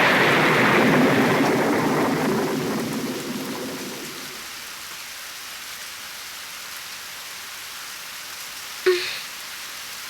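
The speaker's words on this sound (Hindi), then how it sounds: "काफी तेज बारिश हो रही है।" Heavy rain pours loudly at first, then fades to a quiet hiss after a few seconds, with a short sharp burst near the end; no one speaks.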